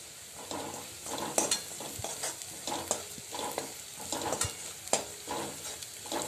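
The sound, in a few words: spices with turmeric, asafoetida and salt sautéed in a pan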